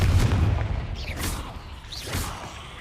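A Confringo fire spell explodes in the Hogwarts Legacy game: a deep rumbling boom at the start, followed by two whooshing bursts with bright sparkling tails, loud and close.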